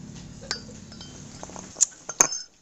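Coffee cups clink as coffee is served, a few light ceramic taps and a couple of bright, ringing clinks near the end, close by against a quiet room.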